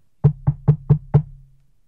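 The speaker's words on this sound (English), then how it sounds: "somebody knocked on the door" Five firm knocks on a door in a quick, even sequence, close and crisp with a short wooden resonance after each rap, in an otherwise quiet room.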